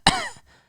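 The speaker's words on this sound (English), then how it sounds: "Did you just cough into the mic?" A single sharp cough into a microphone, close and loud, fading quickly into silence.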